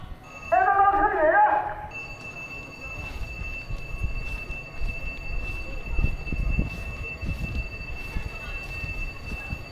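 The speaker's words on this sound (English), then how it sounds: "We have boarded the train and now we have reached the Yabuli railway station." A high-speed train pulling into Yabuli railway station, with a loud squealing brake or horn tone in the first two seconds. A steady high whine and low rumble of the rolling train follow as people talk.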